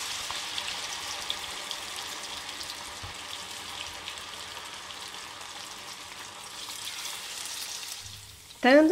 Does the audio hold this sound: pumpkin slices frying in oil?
yes